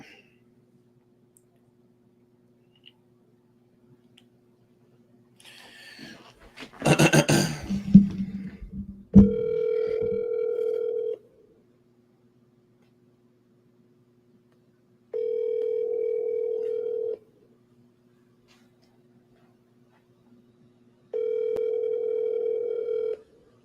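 Outgoing phone call ringback tone, three long steady tone bursts separated by pauses, clear and alone, following a brief burst of handling noise.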